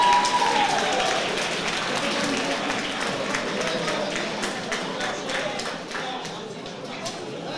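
Spectators at a boxing club home show applaud with rapid, distinct hand claps that start strong and taper slightly over several seconds, under an announcer's voice on the public address.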